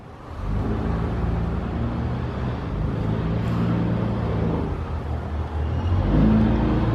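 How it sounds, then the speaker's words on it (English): A 1993 Nissan Gloria Gran Turismo with a 3-liter dual overhead cam V6 single turbo runs at a steady idle, a low continuous rumble and whir close by, rising slightly near the end, with no talking. "This has a 3-liter dual overhead cam V6 single turbo."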